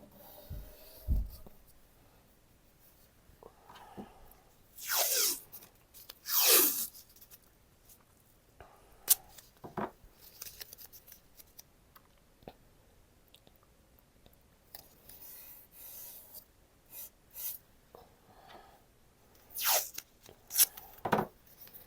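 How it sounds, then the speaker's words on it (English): Tape pulled from a roll and pressed down to mask edges before painting, with several sharp tearing rips and scattered soft rubbing and tapping noises, close by and intermittent with quiet gaps. "So I'm going to tape"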